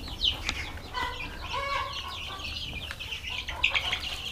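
Chickens on a Mexican organic farm cluck and chatter steadily as they eat, with sharper squawks and a few wing flutters, fairly close over a busy outdoor background.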